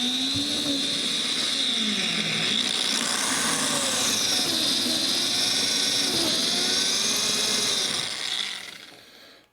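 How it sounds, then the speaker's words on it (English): A power drill whines steadily at close range for about eight seconds, boring a hole through an O scale model railroad layout surface, its high-pitched motor pitch wavering slightly, then winds down. "I'm going to be drilling a hole in the surface of the layout right here"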